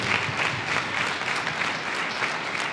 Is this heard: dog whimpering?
no